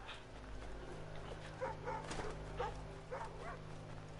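Dog in the Assassin's Creed 3 Remastered video game giving a few short barks and whimpers over a low, steady game background hum.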